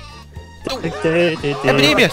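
Cartoonish sheep bleats in Worms Armageddon, the game's exploding sheep weapon, wavering over a busy game soundtrack while a player talks excitedly nearby.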